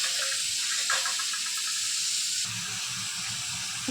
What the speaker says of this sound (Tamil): தக்காளியும் போட்டுக்கிறேன். இது நம்ம லைட்டாக வதக்கிக்கலாம்.